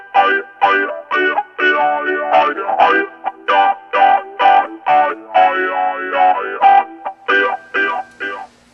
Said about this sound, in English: If you turn the dry volume down and keep the filters high, you get a really funky sound